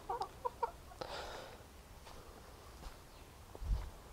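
A few short clucks from chickens near the start, then quiet rustling and faint movement, with a soft thump near the end.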